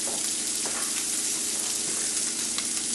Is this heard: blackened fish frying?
yes